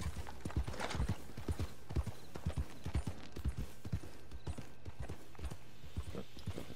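Horse hooves clip-clop at a steady trotting rhythm in the Red Dead Redemption Online video game, the thuds loud and continuous over a low background hum.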